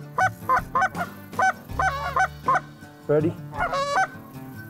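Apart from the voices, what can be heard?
geese honking during hunt in Alberta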